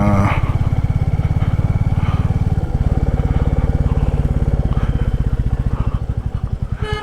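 Motorcycles on a hill road heading toward Bogalake, their engines putting out a loud, continuous buzzing drone with rises as they pass nearby, with faint talk mixed in.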